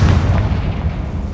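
A deep booming spell explosion, Bombarda or Confringo, in Hogwarts Legacy, a single loud low blast with a rumbling tail that fills the short moment.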